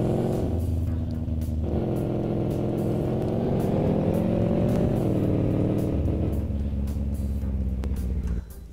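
A VW Golf 7 R Line drives in the Euro Truck Simulator 2 game, its engine droning loudly and steadily, with the pitch rising and dropping at gear changes and no talking.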